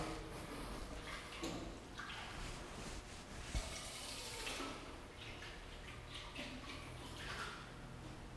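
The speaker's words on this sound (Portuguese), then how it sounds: "Nós vamos lavar o recipiente com água da torneira e água destilada" Tap water running and splashing as a laboratory container is rinsed, a continuous broadband rush with small irregular splashes and knocks, moderately quiet, without speech.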